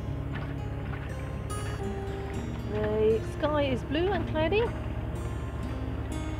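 A sailboat motors under engine across a flat sea in the Faroe–Shetland Channel, its low drone steady throughout while someone speaks over it and seabird calls rise briefly in the middle.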